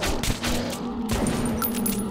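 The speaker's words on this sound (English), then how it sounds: "I'm panic shooting. I'm not able to aim properly." Gunfire in the video game Metro 2033 Redux: a steady stream of shots runs through the whole stretch, with thumps and impacts and a sustained tone in the game mix, but no clear separate bursts.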